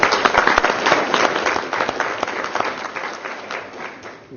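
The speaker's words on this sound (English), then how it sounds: "Let's give him a round of applause." Audience applause at a tribal council meeting, a loud, dense burst of many hands clapping that holds steady for several seconds and eases slightly toward the end, with no talk over it.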